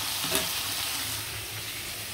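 Chicken meat frying in a pan on a rainy day, a dense continuous sizzle and crackle close by with faint stirring, no voices.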